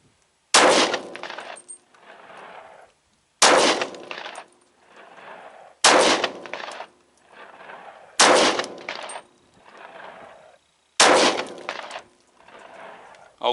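Five loud, sharp pistol shots from a Glock 31 Gen4 in .357 SIG loaded with Hornady 124 grain XTP bullets over HS6 powder, fired one at a time every couple of seconds, each followed by a ringing echo.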